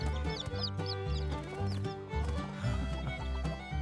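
A plump red-combed hen clucks repeatedly in a courtyard with chicks nearby, a sound effect in a told story, with rhythmic clucks layered over background music.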